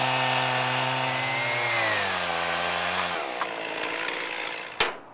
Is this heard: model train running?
no